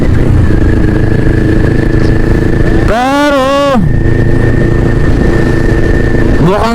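Motorcycle engine running steadily during a ride on a provincial road, a constant close rumble under someone talking, with a passing horn-like tonal sound in the middle.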